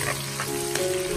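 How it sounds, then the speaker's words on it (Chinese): Pork belly stir-fried in a wok with fresh bird's eye chilies, dried chilies and garlic, giving a dense, steady sizzle close by, alone without any voices. "倒入刚才切好的小米辣、干辣椒和大蒜，快速的翻炒，炒出它的香辣味"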